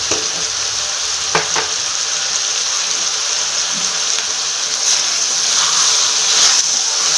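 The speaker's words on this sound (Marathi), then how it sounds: "फुल गॅसवर आपल्याला फ्राय करायचं आहे" Vegetables for a vegetable pulao fry on full gas in a pan, a steady loud sizzle with occasional stirring scrapes throughout.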